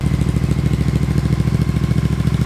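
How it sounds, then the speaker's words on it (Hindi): A Royal Enfield Super Meteor 650 fitted with a loud performance exhaust idling nearby, a deep, rapid, even thumping beat that stays steady and loud throughout, with no speech. "एग्जॉस्ट तो लग चुका है, बहुत लाउड है।"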